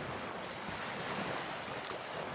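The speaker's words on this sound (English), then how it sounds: "I love the sound of the waves crashing here at night." Night-time ocean waves crash against the shore in a continuous, full roar, with gusty wind noise over the microphone and no talking.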